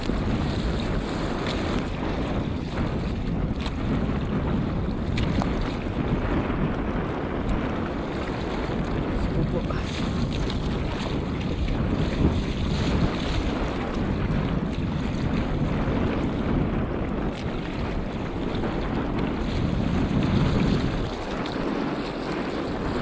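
Large ocean waves pound a small boat out at sea, a dense, loud roar of water and wind buffeting the microphone without a break, with surges swelling and fading.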